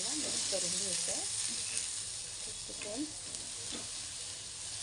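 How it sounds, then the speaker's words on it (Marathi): Spice mix, onions and poppy seeds being stirred in a hot pan for a Maharashtrian dish, with a steady sizzle throughout and scraping strokes of the spoon recurring under faint background voices. "हा मसाला ह्या प्रकारे आपल्याला मिक्स करून घ्यायचा आहे"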